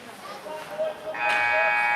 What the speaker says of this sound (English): there's the buzzer to end the game